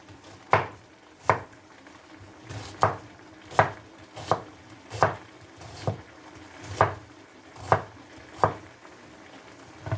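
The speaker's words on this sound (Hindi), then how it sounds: "ये छोटे छोटे इसको क्यूब्स में काट लें।" A knife chops an onion into small cubes for a Pakistani-style mutton curry, with about a dozen crisp, close board strikes arriving in an uneven, steady rhythm and no talking.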